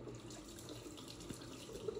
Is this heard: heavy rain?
no